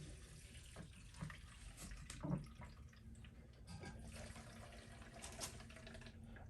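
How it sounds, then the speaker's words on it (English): Fuel runs from the fuel line of a Honda C110 motorcycle in a steady liquid trickle and splash, fairly close and quiet, with a few small knocks and a brief louder burst partway through. "fuel just pouring out of there"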